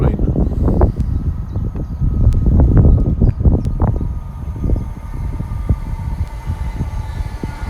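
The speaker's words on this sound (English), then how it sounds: "There's a train." Train rumbling past near a bridge by Hinksey Lake in Oxford, a loud, close, continuous roar that swells and then eases off over several seconds.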